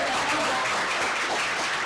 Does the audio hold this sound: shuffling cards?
no